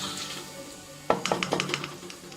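A metal spoon stirs asafoetida and whole spices tempering in hot oil in a pan, giving a run of sharp, close scraping clinks at a quick rhythm over a faint sizzle.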